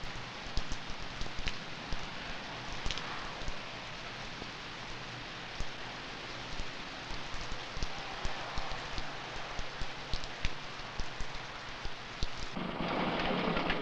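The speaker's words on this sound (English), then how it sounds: "Now it is raining, so we run to the nearest bus stop for shelter." Steady heavy rain falling in Sri Lanka, a dense continuous patter with scattered louder drops and low rumbles of thunder, rising to a heavier downpour at the very end.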